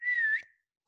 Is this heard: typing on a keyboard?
no